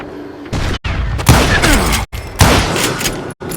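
Loud, close blasts of a double-barrel shotgun in Call of Juarez Gunslinger, a Wild West shooter, booming in a few heavy bursts broken by short silent gaps, with some game sound mixed in.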